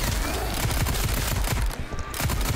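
Rapid rifle gunfire from a first-person shooter video game, set in a labs area, bursts of loud close shots rattling continuously with a brief lull near the end.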